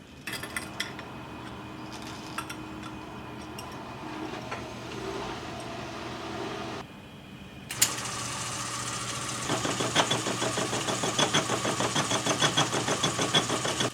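A lathe turns a cast bearing for a Gingery metal shaper with a left-hand turning tool: a steady motor hum, then a louder, continuous rattling chatter of the cut that carries on to the end.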